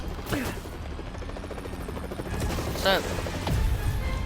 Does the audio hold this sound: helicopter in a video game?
yes